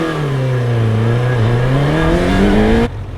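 A 1985 Suzuki GSX-R750 superbike engine runs loud and close, its steady exhaust note rising gradually in pitch over a few seconds before cutting off abruptly near the end.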